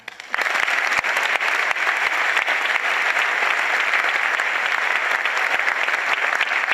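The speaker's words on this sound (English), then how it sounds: "Please join me in a round of applause in appreciation of our outstanding faculty." An audience at a school's back-to-school night applauds its faculty with steady, sustained clapping from many hands that rises quickly and carries on evenly.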